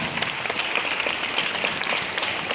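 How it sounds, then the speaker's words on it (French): Applause from an audience at a school civic event rises in a dense, steady patter of many hands clapping, moderately loud and continuous, with a faint murmur of crowd underneath. "Est-ce qu'on peut acclamer ça?"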